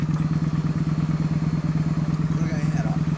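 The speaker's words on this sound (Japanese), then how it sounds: "これホンダの 400X。" A 2013 Honda 400X motorcycle fitted with a Hot Bodies Racing aftermarket muffler idles up close, its steady, fast-pulsing exhaust thump running loud throughout with no change in pace.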